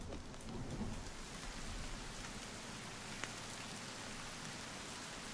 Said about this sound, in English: Ooh, it's thunder.